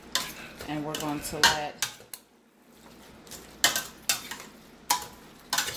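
Ground meat and onions are stirred in a pan for taco spaghetti, with a spoon scraping and clinking against the pan in sharp intermittent knocks over a faint sizzle. A person talks briefly near the start.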